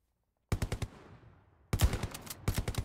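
German rifle fire in the World War II shooter Hell Let Loose: two loud, close volleys of rapid shots, the first dying into a long rumbling echo before the second burst and a short final salvo.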